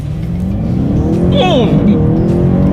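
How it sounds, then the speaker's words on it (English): A BMW 750i luxury sedan from 2020, all-wheel drive, launches hard from a stop on an uphill climb, engine note rising steadily and loudly from inside the cabin as it accelerates, with a brief tire squeal or whine midway. "come to a stop, and let's hit the gas"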